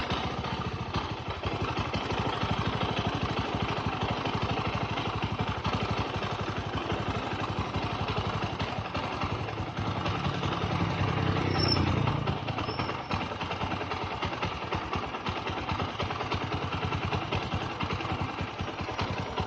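A Bajaj Boxer BM150 motorcycle engine idling during carburetor adjustment, a steady rapid low thrum with constant mechanical clatter, loud and close, the throttle eased slightly partway through, with no talking.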